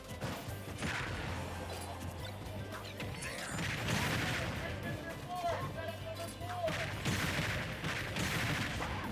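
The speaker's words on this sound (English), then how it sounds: "the epic combo not working because of the grenade" Snake's grenades in a Super Smash Bros. match burst in sharp crashing explosions amid busy game effects, with several smashing hits spread irregularly and people talking faintly beneath.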